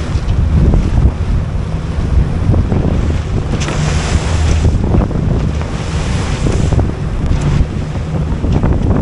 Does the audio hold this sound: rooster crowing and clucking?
no